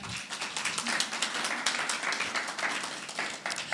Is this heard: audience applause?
yes